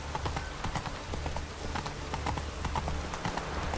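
In The Witcher 3, the horse Roach trots at a steady pace, its rhythmic clip-clop hoofbeats sounding close and continuous.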